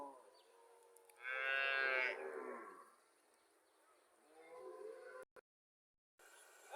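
A dairy cow moos at the Comilla Mirmanni cattle market, one long loud bellow followed by a quieter second low, set against faint background market noise.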